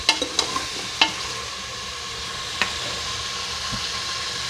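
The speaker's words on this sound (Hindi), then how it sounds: "तो मैं अच्छी तरह फ्राई करूँगी" Beef nali nihari masala frying in a pot, a steady low sizzle with a few sharp scraping stirs near the start and one more partway through, close and moderately loud, no voices.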